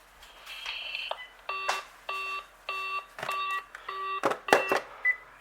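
A VTech CS6114-11 DECT 6.0 cordless phone sounds through its speaker with a repeating electronic ring or beep pattern, about seven evenly spaced tonal pulses that are moderately loud, with a few clicks and handling knocks between them.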